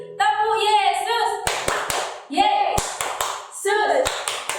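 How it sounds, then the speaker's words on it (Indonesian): Children at a Sunday school session do a rhythmic call-and-response clap, sharp hand claps in quick bursts between short chanted phrases, close and loud with group voices throughout. "Kita lakukan tepuk Yesus supaya kita bersemangat."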